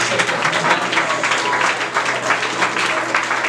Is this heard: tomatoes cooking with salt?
no